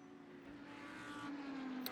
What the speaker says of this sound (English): As we hear, there's another car in front, which is the one we are chasing right now.